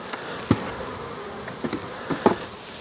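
Honeybees at a mating nuc, agitated after their queen was caged and removed, make a steady high-pitched buzzing drone close by, with a few brief louder wingbeat bursts as individual bees pass near.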